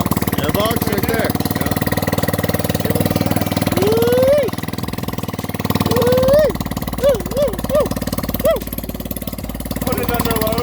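A 150cc Chinese moped scooter engine that had sat unused for a long time runs and warms up, a close, rough idle with repeated throttle blips revving up and down, while people talk over it.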